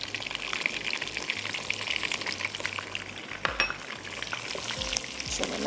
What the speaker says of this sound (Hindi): अदरक लहसुन के पेस्ट के साथ इसको हम थोड़ा सा भून लेते हैं।